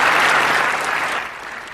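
A large audience at an Africa summit victory celebration applauds, a loud, dense wash of clapping that holds steady and tapers slightly at the end.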